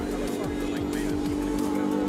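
A Lamborghini Huracan Avio supercar arrives at a supercars-and-coffee meet, its engine a steady low drone with rising and falling swells as it rolls in, close and fairly loud with crowd noise behind.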